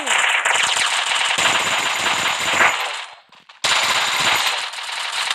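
Rapid automatic gunfire from the shooting game Free Fire during a 4v4 ranked match, loud and continuous bursts with a brief pause near the end before firing resumes.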